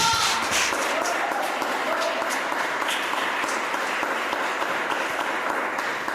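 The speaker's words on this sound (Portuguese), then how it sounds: "Aplauda o Senhor com alegria." A church congregation at an evening service applauds, steady broadband clapping from many hands lasting around six seconds, fairly close and even in loudness.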